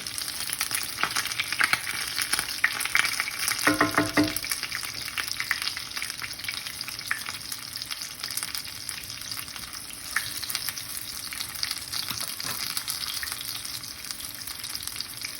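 A chicken piece for chicken parmigiana fries in a pan with a continuous close, loud sizzle, broken by a brief clatter as it is turned over, then the frying carries on steadily.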